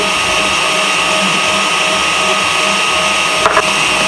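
An electric mixer running at moderate speed whips egg whites with sugar, giving a steady, loud, even whirring drone throughout, with a brief clatter near the end.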